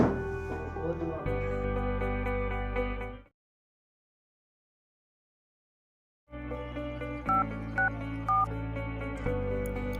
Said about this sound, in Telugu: అరే ఎవరు ఫోన్ చేస్తున్నారు?